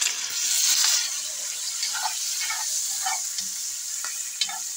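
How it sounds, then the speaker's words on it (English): Spoon stirring coconut sugar into warm water in a small container, a steady soft scraping and swishing with light clinks, close and moderate in level with no voices. "We're going to stir that in until it's completely"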